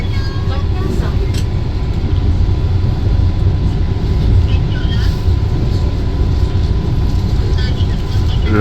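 The Patna–Howrah Vande Bharat Express runs near Rajendranagar Terminal, heard from inside as a loud, continuous low rumble of wheels and carriage noise, with faint talk and faint higher clatter mixed in.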